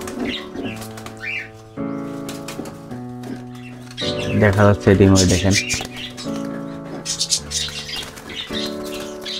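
Pigeons in their coop flap their wings in sudden bursts of fluttering, with someone talking over the sound and tonal background sounds throughout.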